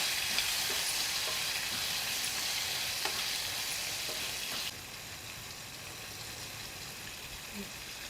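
Prawns frying with turmeric and salt for a pickle, a steady hissing sizzle close to the pan that drops slightly in level partway through.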